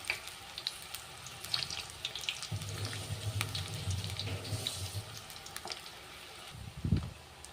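Onion rings fry in oil over a low flame with a soft, steady bubbling sizzle. Faint clinks and a brief low rumble come through near the end, and nobody speaks.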